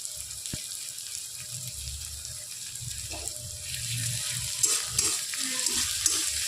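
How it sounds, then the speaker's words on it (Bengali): Sliced onion and grated ginger fry in oil in a pan for okra with mustard, a steady low sizzle with stirring scrapes and a few soft knocks growing busier toward the end. "এবার ভালো করে পেঁয়াজটা একটু তেলের মধ্যে নেড়ে নিয়ে এরকম হালকা ভাজা অবস্থাতেই"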